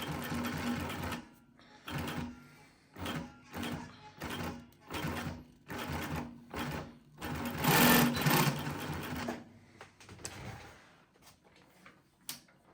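A Global LP 9971 heavy-duty industrial post bed wheel feed sewing machine stitches in repeated short bursts of rapid mechanical clatter separated by brief pauses, with one longer, louder run near the middle, close and clear.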